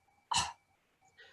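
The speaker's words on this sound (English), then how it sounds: "just cough really gently." A single gentle cough, short and soft, close to the microphone in a quiet room, followed by a faint trailing breath.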